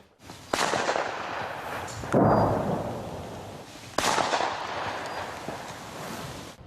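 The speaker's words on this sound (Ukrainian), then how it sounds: "Гул вибухів та пострілів зараз у Покровську не змовкає ні на хвилину" Heavy booms and sharp blasts from explosions and gunfire in Pokrovsk go off every couple of seconds, each one rolling and echoing into a lingering rumble. No voices.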